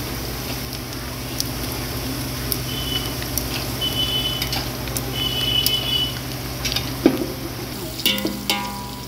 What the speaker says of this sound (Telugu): సో లవంగా ఇలాచి అవన్నీ వేసుకున్నాక ఇలా దూరగా వచ్చేదాక వేయించుకోవాలి